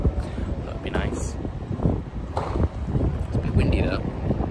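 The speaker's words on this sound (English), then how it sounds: "It's a bit windy though." Wind gusting steadily across an open microphone at a railway station platform in York, a continuous loud rumble with rising and falling buffets.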